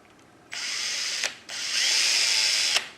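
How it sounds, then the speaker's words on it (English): A power drill whirs loudly in two bursts, a short one and then a longer one, each ending with a brief rise as it cuts through. "We're going to drill through"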